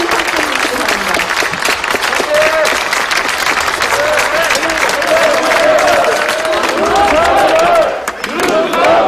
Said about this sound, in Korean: 큰 박수로 힘을 함께 해주시기 바랍니다